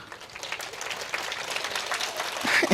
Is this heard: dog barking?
no